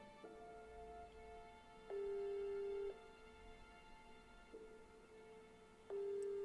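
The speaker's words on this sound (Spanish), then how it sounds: "Yo estoy llamando a ese señor y no coge el teléfono." Ringback tone of an unanswered phone call, with steady repeating ring bursts at regular intervals over a faint background hum, and no one picking up.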